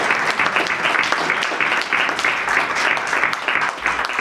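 Warm, steady applause for the Riolunato folk choir, a dense, continuous wash of many hands clapping, loud and close, sustained throughout.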